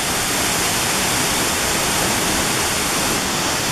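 Powerful rushing water roaring through the narrow Devil's Cauldron gorge, a dense, loud, unbroken torrent close by with no pauses.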